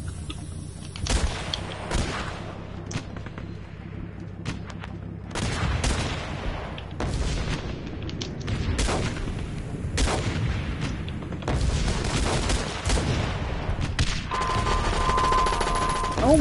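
Dense battle gunfire and missile blasts in a video game, a continuous crackling barrage of shots and booms that builds louder toward the end, with occasional faint speech.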